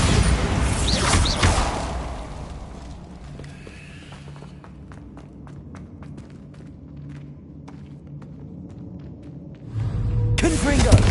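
A Bombarda spell impact in Hogwarts Legacy, a loud, broad crashing burst over the first two seconds. A quieter stretch of scattered clicks and rumble follows, then another loud surge near the end.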